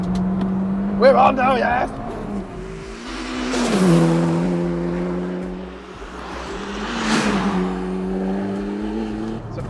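Honda Integra Type R DC2 with a K20 engine of about 350 horsepower, heard from inside as it climbs through the revs, drops sharply on downshifts and then pulls hard again, loud, with brief excited talk near the start.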